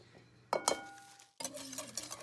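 A whisk working through a pasta sauce mixture with salt, pepper and grated Parmesan in a bowl, giving a few clinking taps and then a continuous scraping, stirring rasp that runs close and fairly loud to the end.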